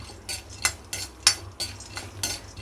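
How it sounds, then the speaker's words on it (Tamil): Peanuts lightly roasting in a pan while being stirred, with a series of soft, regular scraping clinks of a utensil against the metal, close and fairly quiet. "ஒரு 10 வேர்க்கடலையை லைட்டாக வறுத்து எடுத்துக்கிறோம்"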